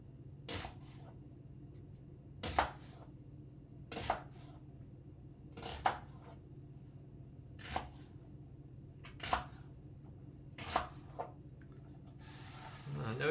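Half an onion being chopped with a knife on a board, roughly eight separate sharp cuts spaced a second or two apart, close and clear over a low background hum.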